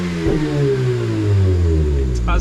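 A Mazda RX8 rotary engine runs close by, holding a steady idle hum before climbing into a rising rev that swells louder toward the end.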